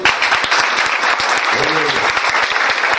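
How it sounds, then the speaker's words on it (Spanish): Loud, close applause breaks out at a wedding ceremony, vigorous clapping from the congregation with a voice briefly rising over it. "Fuerte aplauso."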